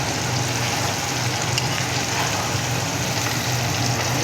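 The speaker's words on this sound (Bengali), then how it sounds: "ডিম, পেঁয়াজ আর লঙ্কা ভাজা হচ্ছে।" Egg, onion and chilli frying in a pan, a steady, close crackling sizzle that holds at an even level throughout with no talking.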